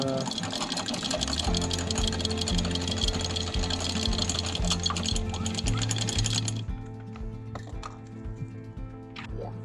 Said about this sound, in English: the chain comes around the Samson post, it goes into the windlass, and then we pull up the first bit of